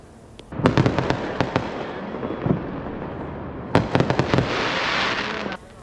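Fireworks display over Douglas Harbor in Juneau, Alaska, at midnight in summer: two volleys of sharp cracking bursts and booms with rolling echoes between them, fairly loud and slightly distant.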